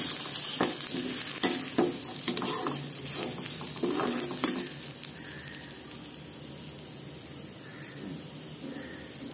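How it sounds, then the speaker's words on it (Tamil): Curry leaves crackle and sizzle loudly as they hit hot oil in a pan, with bursts of popping spattering over a steady frying hiss that gradually settles, while utensils stir now and then; no one talks. "கருவேப்பிலை போடுறேன்"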